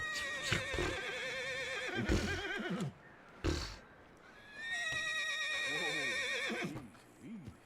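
A horse in the video game Red Dead Redemption 2 gives several loud, wavering neighs and whinnies, with snorts and some hoof clopping between them.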